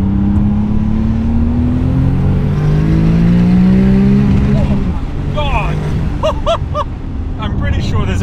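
A 900 horsepower Porsche 911 Turbo SPR1 pulls hard, its engine note climbing steadily through the gears with a strong, continuous roar close by, and a few brief higher tones near the end.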